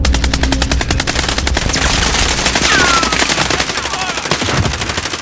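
Automatic weapon fire in Call of Duty: Modern Warfare, a loud, close, rapid and evenly spaced stream of shots rattling almost without pause from start to finish.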